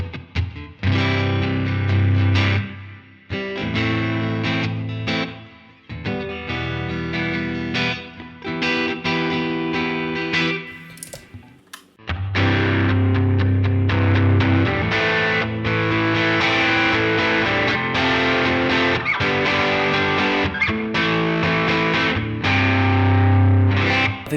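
Electric guitar rhythm tone played through an HX Stomp effects unit, with distorted, chorused strummed chords in repeated phrases, loud and alone, pausing briefly midway before continuing.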